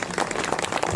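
Audience applause for a music group at a festive multicultural folk music and song gathering, a dense, steady patter of many hands clapping close by for the full second, with no voices over it.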